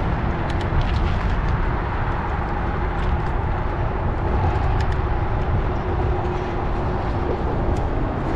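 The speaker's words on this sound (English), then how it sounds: "we got a train over here to the right" Train rolling past nearby at a rail crossing in North Gainesville, Texas, heard as a steady, loud low rumble with rail clatter that holds evenly throughout, with no talk.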